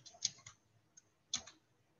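Typing on a computer keyboard: a few faint, sparse keystroke clicks in a quiet room, two quick taps, a lone tap, then another short pair.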